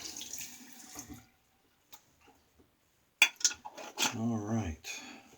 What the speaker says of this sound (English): you end up rinsing whatever's left on your hand down the drain